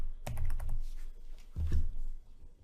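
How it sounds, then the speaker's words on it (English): Quick bursts of typing on a computer keyboard, with clustered key clicks near the start and again after a short pause, close and clear with no talking. "down here, we type also Lansing"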